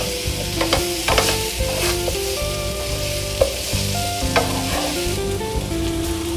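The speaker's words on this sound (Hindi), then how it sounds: "आलू को अच्छे से मसाले में मिक्स कर देंगे।" Potatoes being stirred in spices while frying for an aloo shimla mirch sabji, a steady sizzle with repeated scraping stirs of a spoon against the pan, close and continuous, no voices.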